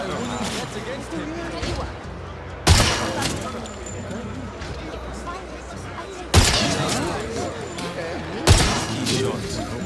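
Gunfire at targets in the video game 007 First Light, sharp shots landing at intervals over steady game ambience and background music, with talk over parts of it.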